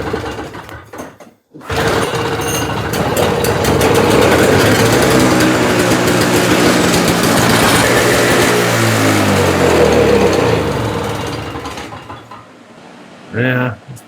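A Toro CCR 3650 snowblower that had sat unused for a long time roars loudly to life after a brief pause, runs steadily with a buzzing small-engine drone for about ten seconds, then cuts out, followed by a short noise.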